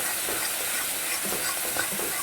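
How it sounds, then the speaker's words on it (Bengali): Spice paste being fried and stirred in a pan for an aubergine chorchori dish, a steady close sizzle with soft scraping, no talk. "মশলাটাকে ভালো করে ভেজে নিচ্ছি"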